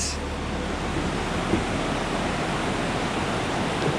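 A rushing mountain stream swollen with meltwater from melting ice along a hiking trail, a loud, continuous broadband roar of water, steady and close with no talk.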